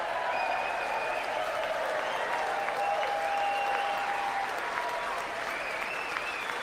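Sustained applause from a large crowd at the 2026 State of the Union fills the whole stretch, steady and dense, with faint voices mixed in.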